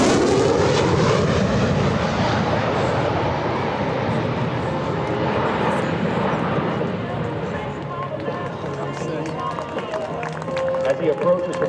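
An F-16C Fighting Falcon flying a demonstration at the EAA AirVenture 2024 air show, a loud sustained jet roar that sweeps past and slowly fades, with an announcer talking over it and a crowd faintly beneath.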